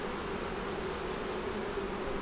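A swarm of agitated honeybees hums steadily around an open hive, a dense continuous drone with no pauses, moderately loud and close, no voices.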